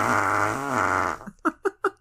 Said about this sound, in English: whether you made that with your mouth or if that was a real fart or not